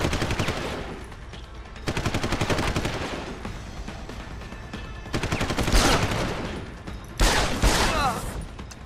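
Gunfire at enemies in Deus Ex: Human Revolution comes as several loud bursts of rapid automatic shots, separated by short pauses, with some speech around the bursts.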